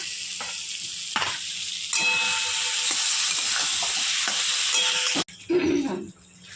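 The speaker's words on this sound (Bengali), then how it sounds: "মশলার সাথে আলুটা ভাজা হয়ে যাবে" Potatoes fry with spices in a pan, a loud continuous sizzle and hiss close by with scraping stirs, cutting off abruptly before a short softer bubbling stretch.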